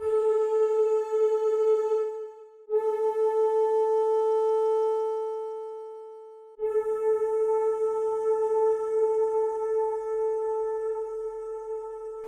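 A steady synthesizer tone from Synplant 2 with bright harmonics plays in sustained notes, each fading out through a smooth, lingering reverb tail; no voices.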